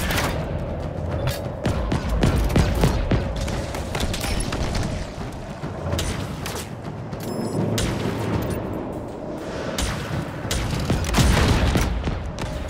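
Gunfire in Halo Infinite during a boss fight, a dense stream of rapid shots and booms with rumbling impacts, loud and continuous throughout.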